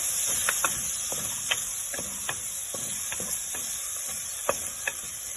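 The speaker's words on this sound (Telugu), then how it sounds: "ఇప్పుడు టమాటాలు వేసేద్దామండి. ఇది కూడా వేగనిద్దాం." Tomatoes frying in a pan with spices for a mutton drumstick curry, a constant bright hiss of sizzling oil broken by sharp spoon scrapes and clinks at irregular intervals.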